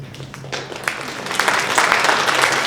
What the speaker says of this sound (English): Please put a lot of applause tonight.